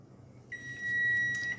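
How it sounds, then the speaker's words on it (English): A kitchen timer goes off while potatoes cook for potato salad, giving one steady, high electronic beep that lasts about a second in a quiet room. "All right, the timer's going off."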